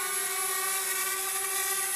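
A DJI Spark drone hovers low over grass while landing beside Lake Huron, its propellers giving a steady, close, high-pitched whirring buzz.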